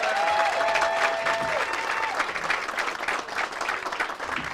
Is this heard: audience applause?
yes